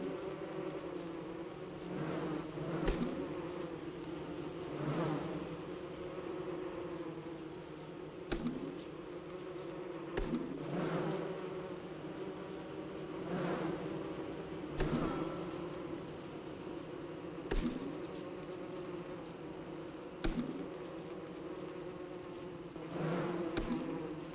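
Killer bees from the video game Don't Starve Together buzz in a steady, continuous drone, with sharp clicks punctuating it every couple of seconds and no talk over it.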